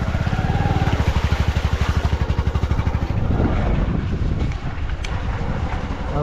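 A motorcycle engine putters steadily with a rapid pulsing rhythm, close and loud, with wind buffeting the microphone as it rides along.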